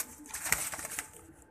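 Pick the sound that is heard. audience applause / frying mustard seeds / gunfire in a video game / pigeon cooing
pigeon cooing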